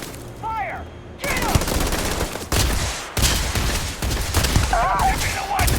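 Heavy bursts of gunfire in Starfield, a series of loud, close volleys separated by short gaps, mixed with shouted voices between the shots.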